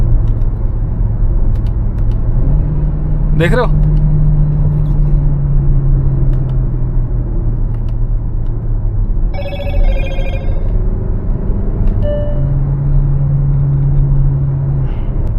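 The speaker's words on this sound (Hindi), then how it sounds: "मतलब आपको बस पैडल शिफ्टर पे उंगली लगानी है और यहाँ पे गियर चेंज हो जाता है" A Kia Seltos with a DCT gearbox shifts through gears via paddle shifters. The engine's steady drone steps in pitch several times, broken by brief electronic chimes, and a voice briefly speaks.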